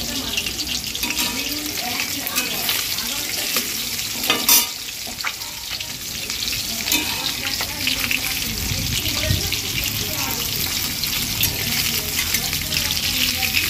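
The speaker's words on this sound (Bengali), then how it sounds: "এতদিন ধরে মাছ ভাজা করছি, তাও মাছ ভাজা আমি শিখে উঠতে পারছি না।" Fish pieces fry loudly in a pan in a home kitchen, a dense continuous sizzle with scraping and stirring noises and a burst of clatter partway through, with faint talk in the background.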